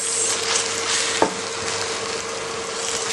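Mutton masala sizzles and fries in a pan, a loud steady crackle with one sharp clink of a spoon or lid partway through.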